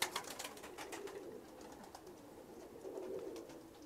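Hungarian red pigeons coo softly in a loft, low repeated murmuring calls with brief wing flutters and scratchy movement, fairly close and quiet against a faint background hiss.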